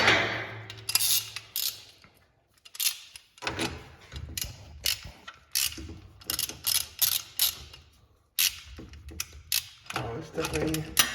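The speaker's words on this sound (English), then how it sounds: "we need to get the wrench in, ratchet in there" A ratchet wrench clicks in repeated short bursts while working on the differential of a Nissan 350Z, close and sharp with brief pauses between strokes and some faint handling noise.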